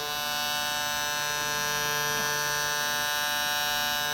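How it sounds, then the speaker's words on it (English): A Supreme Trimmer Darkstar 72 hair clipper runs alone with a steady, quiet electric hum and high buzz, unchanging over a few seconds. "But this is the clipper. Let's hear the sound."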